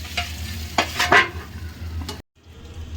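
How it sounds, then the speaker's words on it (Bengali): Pointed gourd and shrimp being stirred and braised in a pan, a few scraping stir strokes over a steady close sizzle, then a brief silence as the lid goes on before a faint simmer resumes. "দেখুন এবারে ঢেকে ঢেকে আমি পাঁচ মিনিট একদম কষিয়ে নেবো"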